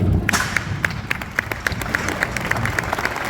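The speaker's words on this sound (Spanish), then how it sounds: "Fuerte el aplauso para el maestro Andrés." An audience applauds at a book presentation in a hall, with a dense wash of clapping and sharp regular louder claps standing out in a steady rhythm throughout.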